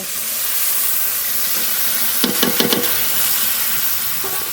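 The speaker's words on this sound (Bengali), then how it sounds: "টমেটা কুচি যে মশলার পেস্ট বানিয়েছিলাম মশলাটা দিয়ে দেব" Tomato-spice paste for desi duck curry hits a hot oiled pan, giving a steady sizzling hiss with a few sharp clattering stirs in the middle; no talking.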